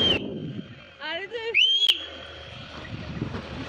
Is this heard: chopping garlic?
no